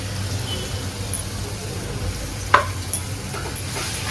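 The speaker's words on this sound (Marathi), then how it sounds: "अद्रक लसूणची पेस्ट टाकून घेऊया" Ginger garlic paste fries in hot oil with onions for a green chicken curry, giving a steady close sizzle with a sharp stirring scrape partway through.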